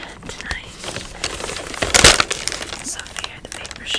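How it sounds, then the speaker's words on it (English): Sheets of paper shaking and crinkling in trembling hands during an up-close whispered reading, with soft rustles throughout and a louder crinkle midway, under quiet whispering. "so if you hear the paper shaking."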